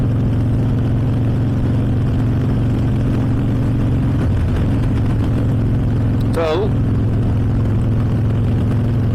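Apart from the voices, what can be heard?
motorcycle exhaust with budget mufflers idling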